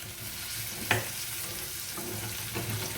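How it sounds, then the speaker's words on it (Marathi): Eggs for egg biryani sauté in a pan, giving a soft continuous sizzle with a single sharp scrape of the spatula and a fainter one near the end. "हे आपण परतून घेऊया. दुसऱ्या बाजूने व्यवस्थित"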